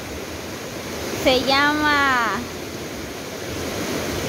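A rain-swollen river after heavy downpours, a steady broad rushing roar of flowing water throughout, with a voice speaking briefly over it.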